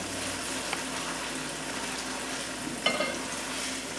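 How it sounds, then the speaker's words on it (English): Eggs being scrambled in a frying pan: a quiet, continuous sizzle with a light clink of a utensil against the pan near the end. "you can start making it scrambled by cutting it"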